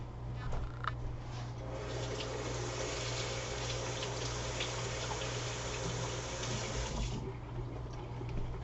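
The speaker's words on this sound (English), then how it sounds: "So let me rinse off my hand here." Hands are rinsed under a running kitchen tap, a steady close splash of water lasting several seconds and easing as the flow is cut near the end.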